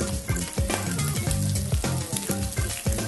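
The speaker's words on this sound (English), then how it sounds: "So I'm going to fry these for 3-4 minutes each side to get some nice colour and nice caramelisation" Slices of pork belly fry in a hot pan, a loud, steady sizzle and crackle with sharp spits and pops scattered throughout, close and continuous with no talking.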